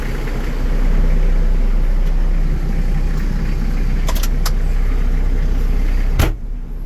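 A tractor engine drones steadily and loudly while pulling a box blade along a rutted driveway, holding a constant low-gear rumble with a few brief clanks near the end before cutting off abruptly.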